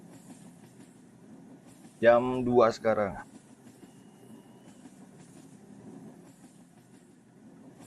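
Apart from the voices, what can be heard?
train running on rails in Roblox video game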